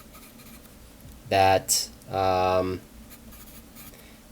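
Pen or chalk scratching steadily while a geometry proof from Euclid's Elements is written out, a faint continuous scraping under a man's brief speech.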